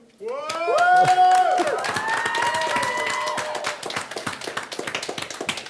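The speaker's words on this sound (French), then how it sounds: "un tonnet d'applaudissements pour notre après les photos, musique, la réalité sur scène" A crowd applauds steadily, many hands clapping close by, while a voice speaks loudly over the start before the clapping carries on alone.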